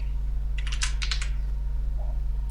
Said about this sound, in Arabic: ثم أكتب هنا اسم اليوزر